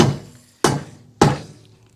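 A homemade lead hammer strikes three times in a slow, even rhythm, each blow a dull, close, heavy thunk that decays quickly into silence.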